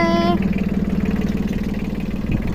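A small Yanmar tractor's engine idling while warming up from cold, a steady low rhythmic chug that runs evenly after a brief tonal beep at the start.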